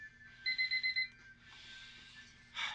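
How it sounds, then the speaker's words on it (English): Game show timer alarm going off, a run of five quick high electronic beeps in a steady rhythm, then a softer trailing tone and a brief burst of noise at the end, with no talking. "Ah, and the timer is up."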